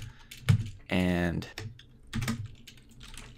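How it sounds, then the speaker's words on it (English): Keys clatter on a computer keyboard as PHP code is typed into an editor, with a few quick, close clicks around someone speaking briefly. "as I start typing this in"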